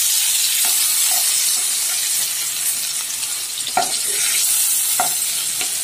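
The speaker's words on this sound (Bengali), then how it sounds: "অপর সাইডটাও আমি 2 মিনিট ধরে ভেজে নেব" Eggplant slices fry in a pan with a steady, close hissing sizzle, broken by a few soft clicks as they are moved about.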